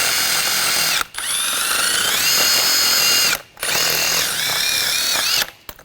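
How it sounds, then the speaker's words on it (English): Power-driven wire brush scrubbing corrosion off a rear wheel hub on a 2013-2019 Ford Escape, a steady high whirring grind in two long bursts with brief pauses, close and loud, no talking. "I'm going to take a wire brush and just clean up the hub surface."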